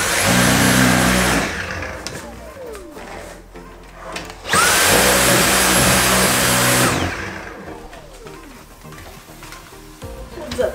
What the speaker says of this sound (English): Now I'm gonna vacuum the desk.